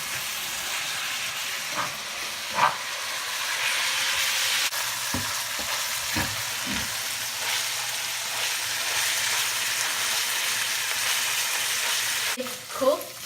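Beef sizzling in a pan with mixed vegetables and fish sauce, a steady loud frying hiss with occasional stirring clinks and scrapes.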